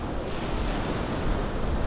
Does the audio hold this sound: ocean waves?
yes